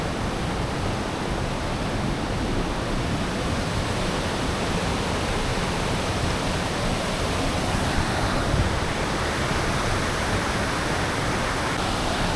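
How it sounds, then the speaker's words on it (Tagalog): Strong rushing water at a local hometown waterfall, a loud, continuous broadband roar close by with no break in the flow. "Lakas ng alon dito."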